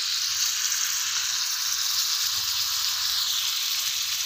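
Freshly picked mushrooms stir-fry in a home kitchen pan with a soft, continuous high hiss that stays level the whole time, with no talking.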